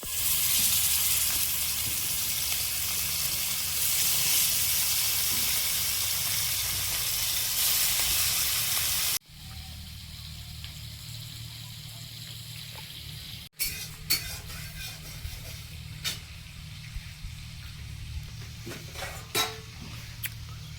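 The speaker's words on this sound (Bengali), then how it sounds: "মাছটা ভেজে নেব, কড়াইতে তেল দিয়ে দিচ্ছি।" Hot oil hisses and sizzles steadily in a wok for frying rohu fish for several seconds, then the scene shifts to quieter kitchen sounds with faint clinks and light sizzling.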